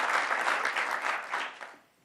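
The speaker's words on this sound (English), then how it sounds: "let's give a round of applause to one of the true leaders and true champions of expanding housing" A business-leaders audience at a New York governor's event breaks into loud, close applause, a dense burst of clapping that holds steady and then fades out quickly near the end.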